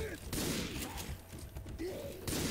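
Shots ring out in Left 4 Dead 2 during the Hard Rain campaign, a few sharp bursts of gunfire spread across a couple of seconds, close and fairly loud over busy game noise.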